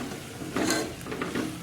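Eggplant oro (ringana no olo) with spices being stirred in a pan, giving soft scraping and stirring strokes with a faint sizzle, close and quiet, with a few brief louder scrapes.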